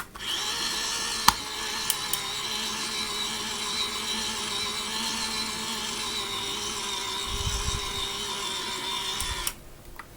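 A small toy washing machine for cleaning sponges runs with a steady whirring motor drone, a sharp tick near the start and a few soft knocks before it cuts off at the end.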